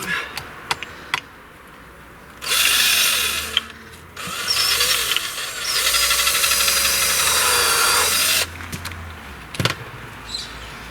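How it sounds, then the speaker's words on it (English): A power drill whines in three bursts, driving a screw diagonally into wood, the pitch dipping as it bites, with light clicks and handling sounds between. "I'm going to drill in diagonally."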